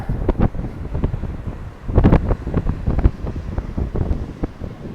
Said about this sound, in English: It starts getting pretty windy as we come out on the point like this.